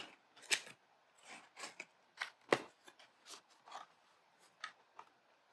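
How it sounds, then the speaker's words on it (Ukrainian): Rustling and crinkling as the packaging of an Hourglass Vanish Airbrush pressed powder compact is opened, with a series of short, close crackles and taps spread over a few seconds and no talk. "Ось так виглядає опакування. Давайте відкриємо разом."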